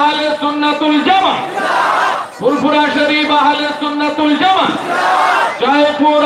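A crowd at an outdoor winter-clothing distribution gathering chants the Nara-e-Takbir slogan in loud, sustained voiced calls, rising in two or three surging waves that swell, fade briefly and return.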